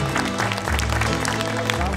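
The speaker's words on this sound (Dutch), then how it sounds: "Nogmaals een groot applaus." Audience applause at an evening zoo show at Wildlands Adventure Zoo in Emmen, steady clapping throughout with a voice talking over it.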